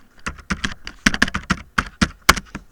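Keys on a computer keyboard clack close by in an uneven run of about a dozen crisp strokes. Some come in quick pairs, and short pauses fall between the rest.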